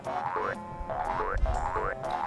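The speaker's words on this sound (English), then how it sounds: "the egg sound is actually a kazoo slowed down, or pitched down" Banjo-Kazooie video game egg sound made from a pitched-down kazoo: repeated rising, wobbly boing-like tones in a steady pattern of about four bursts over game background audio, with no talking.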